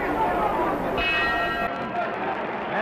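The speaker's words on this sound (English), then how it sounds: "That's the bell for round 4." A boxing ring bell signals the end of round 3 at the Muhammad Ali vs Ernie Terrell heavyweight fight, one clear ringing strike that fades against a loud arena crowd murmur.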